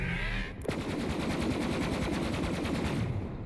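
Hellshock legendary pistol firing in Borderlands 3, producing a fast, steady stream of rapid shots that sound close and loud, after a brief pause at the start.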